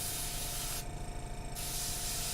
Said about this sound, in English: applying the paint so I have more concentration on it. Spraying his mouth there.